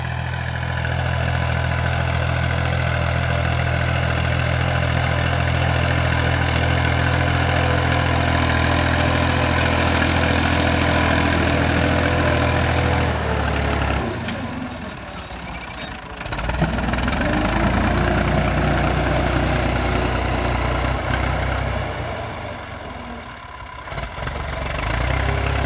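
A tractor engine runs steadily in a field where mustard (toria) is being sown, a loud, continuous low idling drone with knocking that dips briefly mid-way and again near the end, with no talk.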